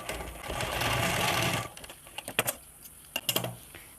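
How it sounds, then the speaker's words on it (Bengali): A sewing machine stitching elastic into the waistband of a pair of trousers runs in one close, steady burst for about a second and a half, then stops, followed by a few sharp clicks and knocks of handling. "পুরো চারদিকটাকে ভালো করে ঘুরিয়ে ঘুরিয়ে সেলাই করে নিতে হবে যাতে ইলাস্টিকটা খুলে না যায়"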